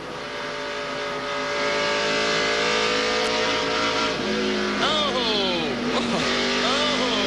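A race truck's engine roars steadily from onboard the Cat-sponsored truck of Andy Houston in the 1999 Chevy Trucks 150, climbing and dropping in pitch through shifts and lifts, with faint commentary underneath.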